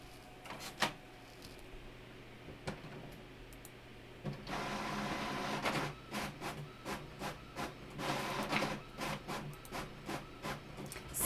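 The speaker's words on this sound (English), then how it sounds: "I'm just printing" An office printer printing a document, starting with a quiet hum and scattered clicks, then a louder stretch of rhythmic feeding and rolling pulses, close by, with no talk.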